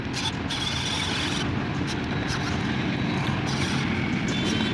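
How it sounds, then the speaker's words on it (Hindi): A tractor engine strains hard while pushing an overloaded trolley backward, giving a loud, steady, close mechanical drone that holds without letup and has no talking over it. "ये ट्रॉली पीछे ही नहीं जा पा रही, पावर तो बहुत है ट्रैक्टर में।"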